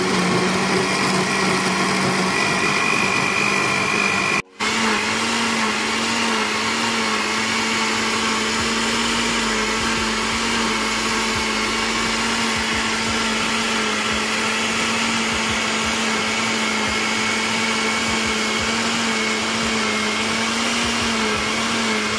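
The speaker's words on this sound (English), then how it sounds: "Lift off the cover of this blender here now" A blender runs steadily for over twenty seconds, mixing an aloe vera drink with a loud, constant motor whine and a tiny dropout near the start, with no talking.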